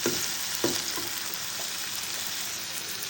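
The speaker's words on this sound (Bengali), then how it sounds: "তো আমার ছোলা ভাজা এখানে হয়ে গেল। তারপর এখানে একটু ছিটে ছিটে আসতেছে, তো আমি কিছুক্ষণ পর পর কিন্তু এটা নেড়ে দিচ্ছি।" Chickpeas fry in a pan with a steady close sizzle and spatter, broken by a few scraping stirs near the start, with no talking.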